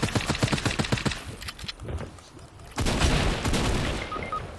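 Rapid automatic gunfire in Fortnite, close and loud: a fast burst of shots, a short lull with scattered pops, then dense sustained firing and booms.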